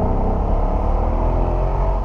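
A Mercedes-Benz SL 63 AMG accelerates hard, heard from inside as a dense, steady engine roar with strong low rumble and no break.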